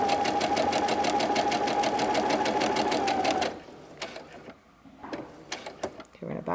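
A sewing machine stitches a fabric scrunchie in a fast, even run of needle strokes, then stops, followed by quieter handling sounds and light clicks.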